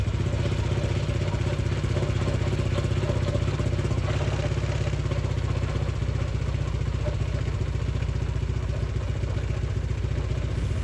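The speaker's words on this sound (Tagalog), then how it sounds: "testing muna natin mga kamister kung aandar pa yung motor natin" A Honda Click 160 scooter running after throttle body cleaning, a steady close engine drone with a fast pulsing beat and mechanical clatter that holds level throughout, no talk.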